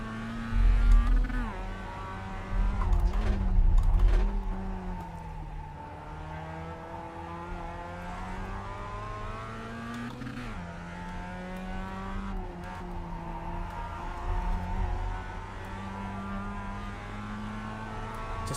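A race car engine in the iRacing video game at Tsukuba circuit, revving and accelerating through repeated rising gear sweeps with brief drops between shifts, close and steady, with no voices.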